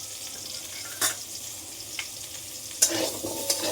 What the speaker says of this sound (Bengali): এই তেলটার মধ্যে, যেটুকুনি তেল আছে তেলটার মধ্যে আলুগুলো আমি দিয়ে দিচ্ছি। আলুটা একটুখানি ভেজে নিয়ে